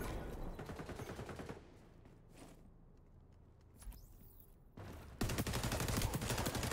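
Shotgun fire in the XDefiant shooter game: bursts of loud, rapid gunfire fill the opening stretch, drop to a quieter lull with a few isolated reports, then return dense and loud at the end.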